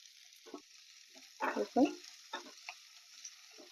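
Capsicum, carrot and onion pieces are stir-fried for chilli garlic tofu: a faint background sizzle broken by several louder bursts of tossing and spatula scraping, close and without speech.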